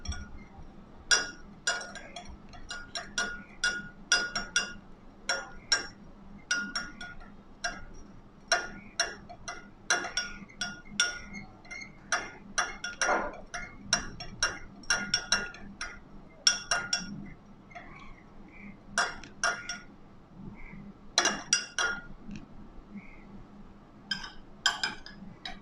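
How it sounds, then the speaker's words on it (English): A spoon stirs homemade lemonade in a glass, clinking against the sides in quick, irregular taps that come in clusters throughout, close and fairly clear with no talking. "Stir them again."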